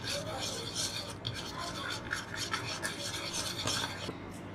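Chicken marinade with chicken powder, red chili powder and salt being mixed by hand in a bowl for zinger burgers: a steady close, wet rasping stir that runs continuously without pause, with no talk.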